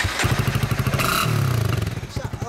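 A motorcycle idles through an aftermarket SP Tadao muffler, a close, loud, lumpy exhaust burble with a quick rising blip of revs midway before settling back to a pulsing idle, with a voice briefly heard.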